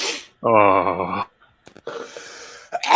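A single person sneezes close up: a sharp voiced intake, a short gap, then a breathy burst and some noisy exhaling afterward.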